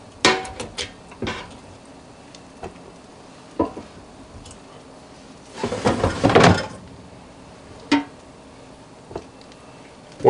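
The basket door of a Gourmia dual-basket air fryer is pulled partway out, giving a rough sliding scrape in the middle, with scattered sharp clicks and knocks before and after.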